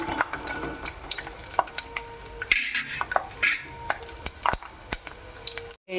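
Lentils and spices fry and get stirred in a pan for pulihora, soft sizzling under irregular scraping and clinking of a spoon against the metal, ending in a sharp knock.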